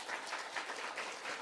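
A church congregation applauds in a dense, steady wash of many hands clapping, moderately distant and sustained throughout the short stretch with no talking over it.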